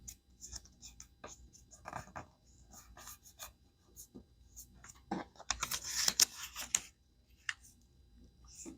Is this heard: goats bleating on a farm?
no